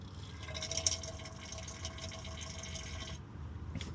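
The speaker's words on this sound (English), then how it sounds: "So I will continue filling the differential in this method." Differential fluid gurgles and trickles as it is pumped into a Nissan Stagea's rear differential, a soft steady liquid flow close by with no voices.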